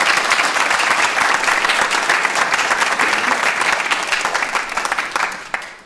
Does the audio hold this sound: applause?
yes